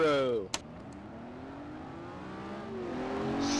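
A car accelerating hard in an informal drag race, its engine note rising steadily in pitch as it revs up close by, with a brief voice at the start.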